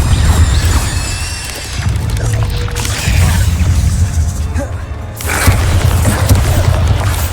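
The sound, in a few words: Incendio fire spell cast in video game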